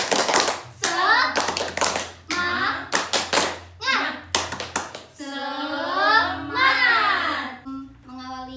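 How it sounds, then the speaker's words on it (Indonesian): A school class claps out a rhythmic clapping chant together, bursts of claps alternating with children's shouted chanting in a lively classroom, the group voices loud and close. "Tepuk semangat dulu yuk, bareng-bareng."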